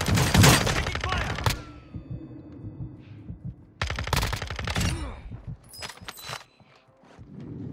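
Gunfire rattles in Call of Duty Modern Warfare II, with loud bursts of rapid automatic shots, a quiet pause, then more clustered volleys and scattered single cracks close by.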